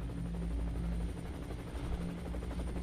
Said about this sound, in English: The last guy's chopper.